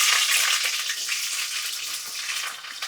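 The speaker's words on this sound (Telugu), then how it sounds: "ఆయిల్ కాగిందండి. ఇప్పుడు మనం పెద్ద ఉల్లిపాయలు వేసుకుందాం." Onions tipped into hot oil in a pan crackle into a loud, dense sizzle that hisses steadily for a few seconds and thins slightly near the end, with no voices over it.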